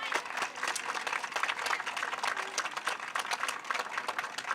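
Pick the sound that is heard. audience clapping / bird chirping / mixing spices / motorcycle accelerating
audience clapping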